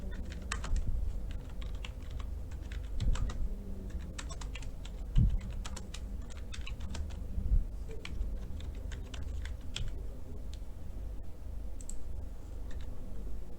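Rapid, uneven clatter of fingers typing on a computer keyboard, close and clear, keystrokes in quick bursts with brief pauses over a low room hum.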